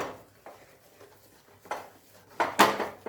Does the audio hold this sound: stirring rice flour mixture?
yes